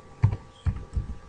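A short burst of keystrokes on a computer keyboard while typing a command into Rhino software, three or four close, quiet clicks.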